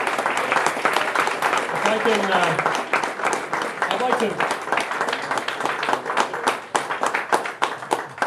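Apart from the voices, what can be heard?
audience applause at a policy forum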